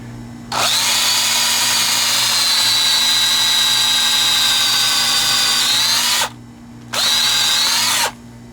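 A power drill whines loudly and steadily for several seconds drilling into a wooden chair leg, stops briefly, then runs again in a shorter burst, close by.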